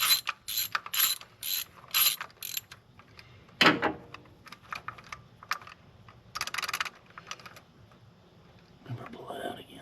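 Ratchet clicking in quick bursts while a distributor is pulled from a Chrysler 383 big block Mopar engine in a 1940s-abandoned Newport, nearby and sharp, with pauses and a brief voice between runs.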